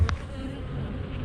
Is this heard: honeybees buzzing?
yes